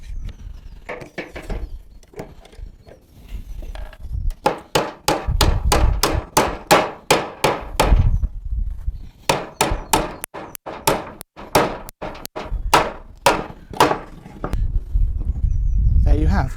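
Nails are hammered into a timber joint with sharp, evenly spaced wooden blows in several quick runs, loud and close, with a person talking at times between the bursts.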